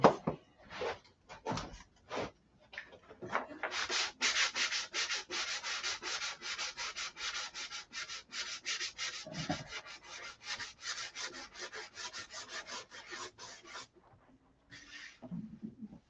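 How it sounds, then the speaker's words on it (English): Hand sanding a primed surface on a Sig Magnum before painting, rapid rhythmic back-and-forth scratching strokes, close and fairly quiet, with short pauses. "sanding the crap out of it"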